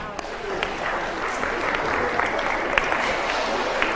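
Audience applause at a Dallas Christian school hypnosis show, a continuous wash of crowd clapping at even, moderate level throughout, slightly distant.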